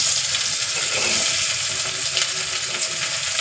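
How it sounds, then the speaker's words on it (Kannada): Chillies and onions frying in ghee in a pan for ghee rice: a steady, loud, continuous sizzle throughout, with occasional stirring scrapes and no talking. "ಈಗ ತಕ್ಷಣ ಮೆಣಸಿನಕಾಯಿ ಹಾಕಿ ಈಗ ಈರುಳ್ಳಿನ ಹಾಕ್ತೀನಿ"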